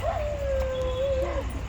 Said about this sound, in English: there's a lot of barking by Bijli, dog.